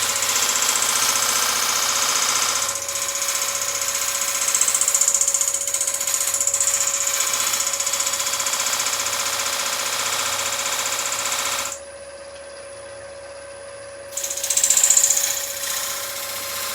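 Steady whirring drone of a wood lathe scraping a beaded burr bowl, with a faint scraping texture over the motor hum, a short drop in level near the end, then a louder swell as scraping resumes.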